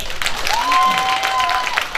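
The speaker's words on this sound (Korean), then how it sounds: "내가 살 수 있겠다 그러신 분들만 박수 한번 쳐주세요" A festival audience at a ceramics fair in Gimhae, South Korea, breaks into a brief burst of applause for a folk entertainer, dense clapping from a crowd with voices mixed in.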